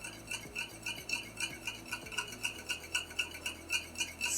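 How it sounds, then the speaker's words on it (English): A utensil stirring chocolate cremeux custard in a pot, making rhythmic scraping strokes about twice a second, soft and close, with no talking. "And I stir it all the time because we don't want to make scrambles."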